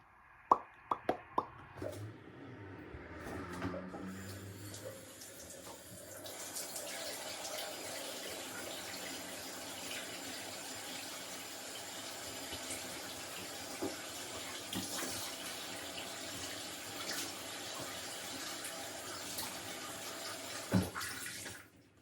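A tap runs steadily into a sink to wet a cotton turban cloth, starting with a few splashy plops and knocks, then settling into a continuous close rush of water that stops with a final clunk.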